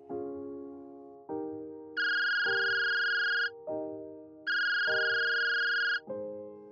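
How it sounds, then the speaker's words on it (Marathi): A mobile phone rings alone, its ringtone cycling through a repeating melodic pattern that alternates lower and higher electronic tones at a steady, insistent rhythm. "तितक्यात तिचा फोन वाजला."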